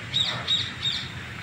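Three quick, evenly spaced bird calls ring out, harsh and caw-like, fairly close, in a garden at the Philippine Arena in Bocaue, Bulacan.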